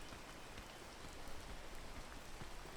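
Steady rain in the video game PEAK, a dense continuous hiss of falling drops that stays even and fairly soft throughout, with no talk over it.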